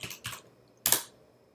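Short burst of typing on a computer keyboard, a few quick clustered keystrokes then a sharper final key press, close and fairly quiet with no talking.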